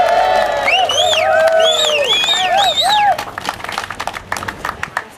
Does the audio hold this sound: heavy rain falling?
no